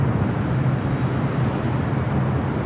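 A converted Airbus A330 cargo plane taxis at LAX, giving a steady, low, broadband jet rumble that holds at an even level throughout without any clear change in pitch.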